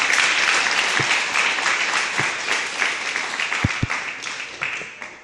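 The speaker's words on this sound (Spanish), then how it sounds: "sí es para darle un fuerte aplauso a nuestro Dios" A church congregation claps loudly and continuously during a sermon, the broad wash of applause slowly thinning toward the end, with a few heavier thumps near the floor underneath.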